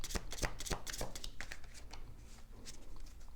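Tarot cards being shuffled by hand: a run of quick papery riffles and flicks, close and fairly soft, with a faint hum underneath and no talking.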